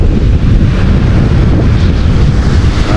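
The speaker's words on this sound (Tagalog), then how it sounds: "Hangin." Strong wind buffeting a microphone outdoors on a mountain road near Tanay and Infanta, a loud, steady low rumble and roar filling the whole stretch with no voices.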